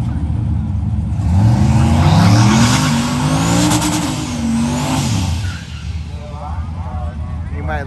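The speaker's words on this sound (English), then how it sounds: "Oh, he didn't like the burnout." A 1200hp turbocharged 408 Sierra pickup truck does a loud tire burnout at a drag strip, with squealing tires and a revving engine that swell and then ease off as a voice talks nearby.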